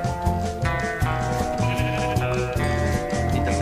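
Black sheep in Minecraft bleat in short, repeated calls, heard close over busy game music and sound effects.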